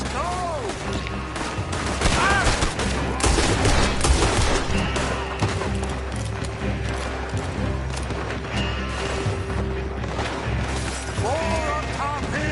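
Gunfire in the video game Red Dead Redemption II: dense volleys of shots and booms over a rumbling background, loud and continuous, with game voices speaking among the shooting.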